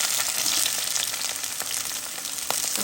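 Prawns with onion and tomato frying in a pan, a steady dense sizzle close by with occasional small pops and stirring scrapes.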